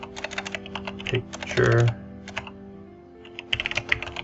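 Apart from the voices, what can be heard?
typing on a computer keyboard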